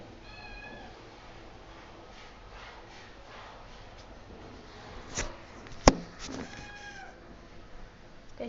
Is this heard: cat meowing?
yes